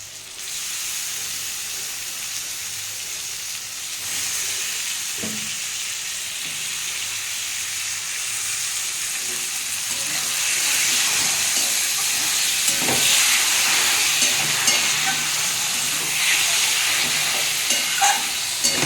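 Bombay duck (lote) fish frying in a pan makes a steady hissing sizzle that grows louder partway through, with a few faint knocks and no voices.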